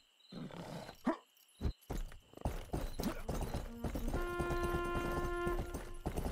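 Hooves clip-clop in a quick rhythm amid scattered thumps and a roar in the video game Rustler, then a steady galloping beat with a droning tone underneath.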